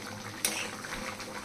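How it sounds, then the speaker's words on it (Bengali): Soybean curry boiling in a pot on a home stove, a soft steady bubbling with a sharper burst early on, close and quiet with no talking. "ফুটছে কিভাবে টকবক টকবক করে।"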